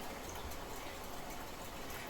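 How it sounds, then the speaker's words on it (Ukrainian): Water pours steadily into a pot of rice and vegetables, making a quiet, continuous gushing and splashing hiss that fills the whole short stretch without pause. "приблизно заливаю так, щоб вода була не менше, ніж на один палець"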